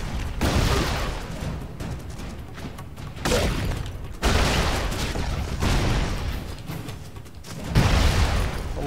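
Broforce gameplay full of gunfire and explosions: continuous loud volleys of shots and booming blasts in repeated waves, dense and chaotic, close and overwhelming throughout.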